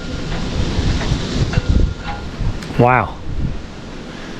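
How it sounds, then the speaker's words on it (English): Strong gusting wind before a storm roars steadily across an outdoor microphone, with a man briefly exclaiming over it. "That's some wind."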